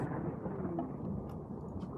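Rumbling thunder with steady rain noise during a flash storm in the video game RimWorld, a continuous low roll at moderate level with no talk.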